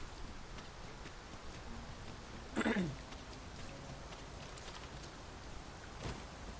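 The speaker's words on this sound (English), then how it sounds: "We must be really down on our luck to get caught out in such a downpour." A heavy downpour in the video game Dragon's Dogma 2 makes a faint, steady hiss of rain, broken once by a brief, sharper burst partway through.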